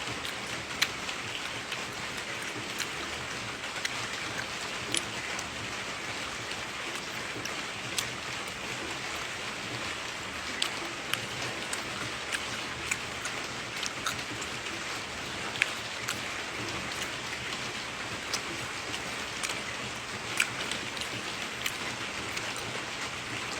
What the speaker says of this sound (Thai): เหมือนฝนตกฝนตกครับ